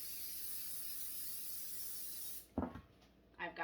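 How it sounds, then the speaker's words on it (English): Cooking spray hisses in one long, steady burst onto a pan, then stops, followed by a couple of brief knocks and rubbing handling sounds nearby. "so you want to go ahead and spray every little nook and cranny."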